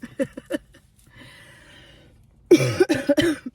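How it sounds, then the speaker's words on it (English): A few sharp coughs at the start, a short raspy breath, then a louder burst of several harsh coughs close to the mic. "I'm just still coughing a little bit"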